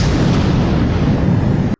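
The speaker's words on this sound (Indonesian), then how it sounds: "Hayato masih sempat meledakkan dinamit kecil yang membuat Belpegor terjatuh" A small stick of dynamite goes off in an anime fight, a dense, sustained rumbling blast that fills the moment at full loudness and then cuts off abruptly to silence.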